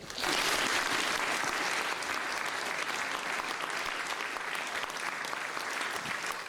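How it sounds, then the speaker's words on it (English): A lecture audience at the Royal Institution in London breaks into full, steady applause, dense clapping starting abruptly and holding at an even level until the end, with no talk over it. "can I get a big round of applause for Robin?"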